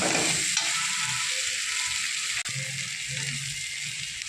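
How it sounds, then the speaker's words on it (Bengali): Spice paste sautéing in a pan for a fish-head and kohlrabi ghonto with potato: a close, continuous frying hiss with faint stirring scrapes and a single sharp knock partway through, no voices. "এবার মশলাটা ভালো করে কষিয়ে নিচ্ছে।"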